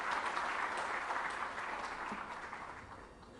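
A crowd at an Uttarakhand government appointment event claps for newly appointed medical officers, a dense, steady burst of applause that tapers slightly over a few seconds.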